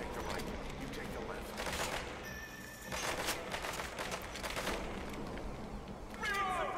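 Gunfire in Metal Gear Solid V: The Phantom Pain's prologue, scattered shots and bursts of automatic fire with voices talking over the mix.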